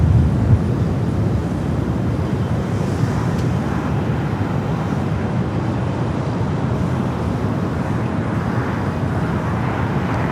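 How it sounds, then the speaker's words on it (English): A Swiss airliner arriving from Zurich at Los Angeles LAX on the north side, a steady broadband jet roar rumbling continuously with wind buffeting, no voices. "Swiss flight 40 coming in from Zurich"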